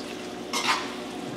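Peas stirred into shepherd's pie filling in a pan, a short scraping swish of the spoon over a gentle sizzle, close and brief.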